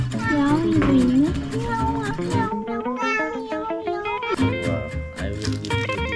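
Close, drawn-out meowing comes from a cat found in a room with a terrace at a guesthouse. Several wavering cries run back to back, mixed with nearby voices.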